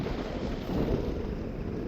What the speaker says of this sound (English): Sorry for the wind, guys. It's super windy up here.